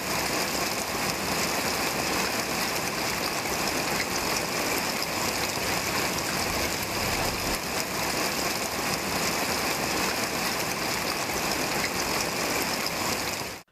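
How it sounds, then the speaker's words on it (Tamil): Heavy afternoon rain pours down during the northeast monsoon in Tamil Nadu, a dense, unbroken hiss that stays at the same loud level throughout before ending abruptly. "பிற்பகலில் அரை மணி நேரம் கனமழை பெய்தது"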